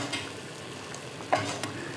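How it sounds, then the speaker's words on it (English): Butter foams and sizzles in a tilted pan as lamb shanks are basted, a soft continuous frying hiss with occasional spoon scrapes and small clinks, fairly quiet and near, no talking. "Baste, baste, and baste some more."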